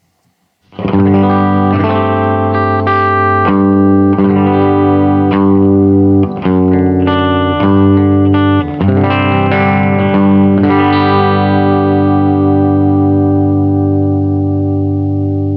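Electric guitar played through a Hotcake drive pedal set for drive and mid-range, a series of lightly overdriven chords and picked notes ringing loudly and alone, ending on a sustained fading chord.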